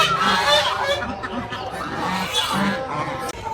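Pet ducks and other birds honk and quack in a loud, dense, continuous chorus close by while being fed soaked roti bread, with no pauses for the whole stretch.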